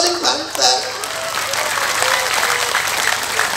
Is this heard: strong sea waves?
no